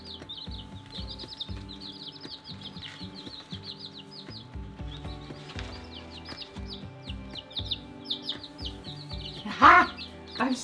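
Newly arrived Barred Rock and ISO Brown chicks cheep in a steady stream of high, rapid peeps, near and lively, over a layered background hum, with a brief louder burst near the end.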